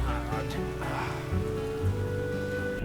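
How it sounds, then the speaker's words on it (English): Heavy rain falls steadily in The Witcher video game, a dense constant wash of downpour that continues for the whole stretch, with low tones underneath. "It's raining hard."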